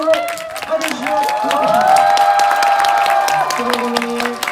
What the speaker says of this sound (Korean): 큰 박수 환호로 받으시오